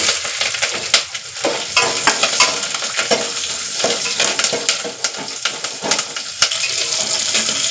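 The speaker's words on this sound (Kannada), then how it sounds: "ಲಾಸ್ಟಲ್ಲಿ ಜೀರಿಗೆ ಈಗ ಕರಿಬೇವು ಈಗ ತಕ್ಷಣ ಮೆಣಸಿನಕಾಯಿ ಹಾಕಿ" Cumin seeds, curry leaves and green chillies crackle and sizzle in hot oil for a ghee rice tempering, a steady loud frying hiss with frequent sharp pops and spatters throughout.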